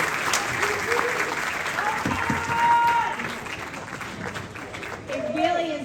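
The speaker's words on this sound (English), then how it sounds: "Definitely deserve another round of applause." Audience applause at a 7th grade band concert, steady dense clapping filling the hall for several seconds with a voice briefly heard over it.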